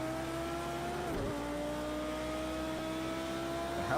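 A GT3 race car engine in the Project Cars 2 racing game holds a steady high whine, briefly drops in pitch as the car shifts, then climbs again, continuous and close with no voices.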